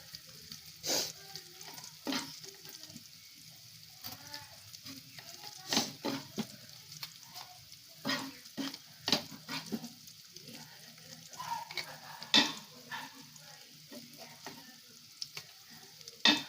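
Onions frying in a pan for a village-style Malvani chawli usal give a soft sizzle under frequent scraping and stirring strokes from a spatula, irregular sharp taps scattered across the stretch.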